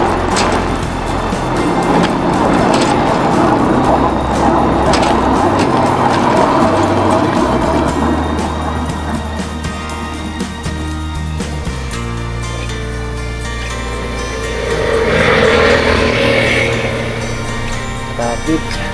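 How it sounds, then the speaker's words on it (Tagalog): Road traffic slowed by roadworks, with car engines idling and rumbling nearby, a steady low drone with passing vehicle swells and a louder surge near the end. "Traffic po ngayon dito."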